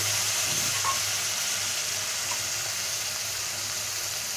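Spice paste frying in a pan with pointed gourd, a dense, even sizzle holding steady at moderate loudness from start to finish, with no voices.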